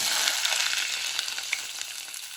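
Onion frying in a pan for wheat rava kichdi, a steady close hiss of sizzling with small crackling pops, continuous and without talk.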